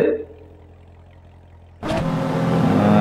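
Racing car engines in the mobile game CarX Highway Racing, a quiet low idle that suddenly jumps to loud revving and acceleration as the race starts, holding a steady roar to the end.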